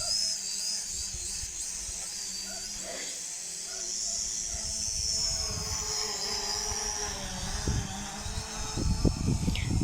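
A drone flies over horses in a spring outdoor setting with birdsong, a steady high buzz holding throughout, with some low rumbling and wind bumps growing louder toward the end.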